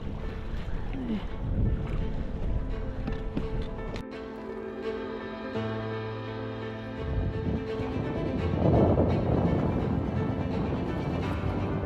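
A sailboat motor sailing under engine off southwestern Alaska gives a steady engine hum with water wash and wind noise. A low tone shifts partway through, and the wash swells toward the end.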